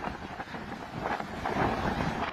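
Strong typhoon wind lashing Basco in Batanes amid heavy rain, a steady broadband roar that rises and buffets the microphone, loud throughout with no voices.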